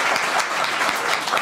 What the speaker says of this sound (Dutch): Geef ze een applaus